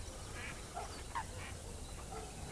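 Faint duck quacks come through in a few short calls over a steady outdoor background hiss, at shallow water in Sloviansk on a morning in April.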